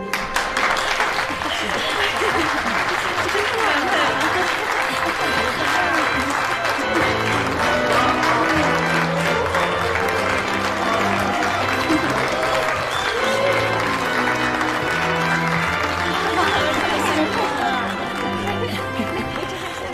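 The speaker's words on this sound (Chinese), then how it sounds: "让我们用掌声有请美丽的新娘" Wedding guests clap steadily for the bride's entrance, a dense, continuous wash of applause from a crowd that holds for the whole stretch, with music playing underneath.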